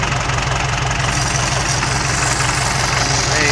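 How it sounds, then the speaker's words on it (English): Massey Ferguson 130 tractor engine idling with a loud, steady rhythmic diesel chug and a rattling weather cap clattering on top, continuous and close. "Got a rattly weather cap."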